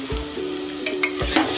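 Masala paste fries in oil for a Matar Paneer curry, giving a steady close sizzle broken by a few soft stirring scrapes of a spoon against the pan, with no one talking.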